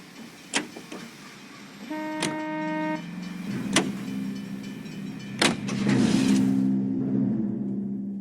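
A car in LA Noire starts and pulls away: sharp door and ignition clunks, a brief horn-like tone, then a rising engine hum that builds louder toward the end.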